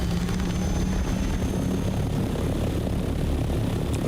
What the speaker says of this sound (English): Maybe I'll take the assault copter since it can contain more.